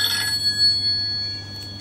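Mobile phone ringing from an incoming call while lying on a contactless induction charger, a steady electronic tone held close and loud throughout with no talk.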